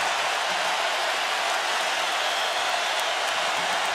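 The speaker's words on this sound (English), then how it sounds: "Tide crowd at this end making some noise" Alabama Crimson Tide fans roar in a packed stadium at the 2019 college football national championship against Clemson, a steady, dense wash of crowd noise holding level throughout with no clear voices on top.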